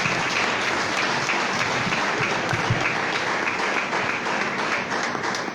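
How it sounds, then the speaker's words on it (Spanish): Church congregation at a Spanish-language sermon bursts into loud, dense applause that holds steady and unbroken throughout, with no talk over it. "Aplaudile fuerte al Señor entonces"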